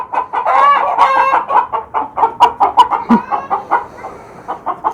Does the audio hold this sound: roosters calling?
yes